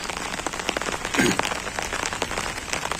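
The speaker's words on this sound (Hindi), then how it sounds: "अभी भी आपको बारिश की आवाज़ सुनाई भी दे रही होगी।" Steady rain pattering on a surface during monsoon-season rain, a dense continuous patter with scattered louder drops, no voices.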